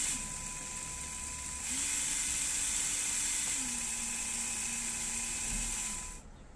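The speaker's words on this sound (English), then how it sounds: "When I switch between modes, I can clearly notice the change in the motor sound" Small electric drive motors in a soccer robot whir at a steady pitch, then shift up and back down as modes change, a faint close mechanical hum heard alone.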